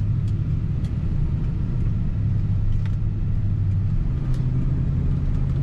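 A 1979 Lincoln Continental Mark V with automatic transmission accelerating on the road, a low steady engine rumble and road noise heard from inside the car, fairly loud and continuous.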